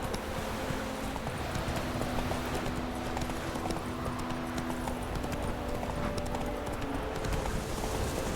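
Horse hooves clip-clopping steadily in the game Witcher 3, a continuous trotting rhythm over constant background ambience.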